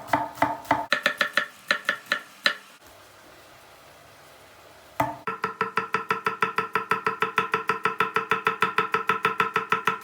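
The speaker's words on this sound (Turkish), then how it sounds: "Aynı robottan çekmiş gibi ince doğrayacağız" Rapid, rhythmic knife chops against a board finely chopping vegetables for stuffed pepper filling, a quick burst, a short pause of quiet, then a long fast run of even, sharp cuts.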